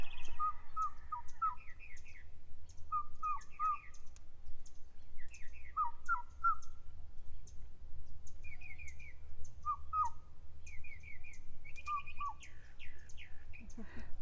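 A person outdoors imitates bird calls with repeated short whistled chirps and trills in spaced bursts. A steady low rumble runs underneath.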